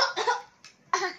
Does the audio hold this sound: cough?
yes